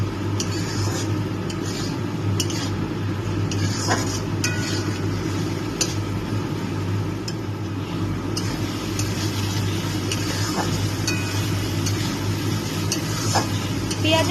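Garlic, green chili and ginger paste sautéing and being stirred in a pan for a kochur loti dish, giving a steady close sizzle with scraping stir strokes throughout and a low constant hum underneath.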